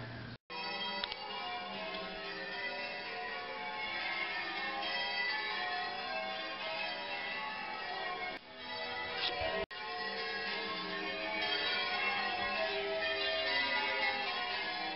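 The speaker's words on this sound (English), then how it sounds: "And those were the bells from..." Church bells peal continuously, with many overlapping rings forming a dense, steady wash, broken by two brief dropouts, heard at a distance as in a recording.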